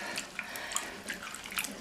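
Tap water rinsing vinegar-soaked green beans, a steady hissing stream with small splashes and drips, close and continuous with no talk.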